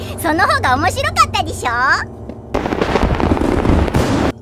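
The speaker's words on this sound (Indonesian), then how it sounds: "Mereka pun diberikan suguhan kembang api yang sangat banyak" Excited voices shout and squeal at first, then a dense burst of fireworks crackles and pops loudly for a couple of seconds.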